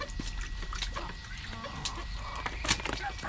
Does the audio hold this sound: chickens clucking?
yes